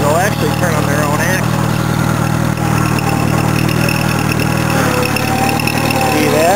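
An Allis-Chalmers tractor engine idles steadily while the machine turns on its own axles, a loud, close, continuous rumble with someone talking over it.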